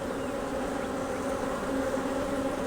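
Honey bees buzz in a steady, dense drone throughout while an open hive is inspected and brood frames are pulled, the hum close and continuous with no talk.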